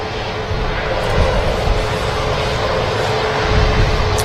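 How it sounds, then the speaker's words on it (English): An Eastern Airways Jetstream turboprop touches down on a runway at Manchester Airport, a steady loud engine roar with propeller drone holding throughout, heard from a distance. "Is that Eastern Airways Jetstream? Just touching down behind."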